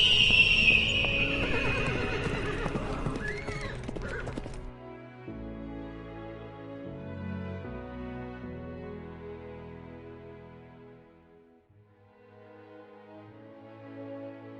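A horse whinnies loudly for a few seconds, then a steady instrumental music passage takes over and plays alone.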